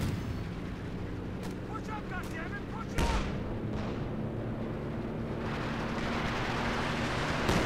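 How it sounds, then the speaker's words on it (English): Artillery rocket fire from Company of Heroes 2 rumbles with distant booms and a sharp blast, over a steady battlefield drone, while a voice talks throughout. "More artillery fire."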